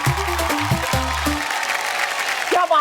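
A studio audience on a women's game show claps for contestants who advance to the next round. The applause is steady and moderately loud beneath a host talking over it.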